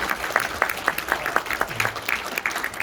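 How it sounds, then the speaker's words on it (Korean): An audience in a theater applauds after a lecture, giving steady, moderately dense clapping with individual claps standing out, sustained evenly throughout without voices over it. "큰 박수 한번"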